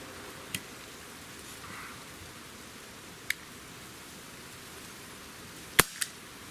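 Gamo PT-80 CO2 air pistol fires four sharp, isolated cracks, spaced irregularly with the last two close together, over a faint hissy background.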